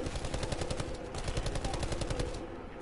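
Rapid automatic gunfire from a PS4 shooter game rattles in dense bursts for over two seconds, then cuts off abruptly, leaving a brief quieter tail.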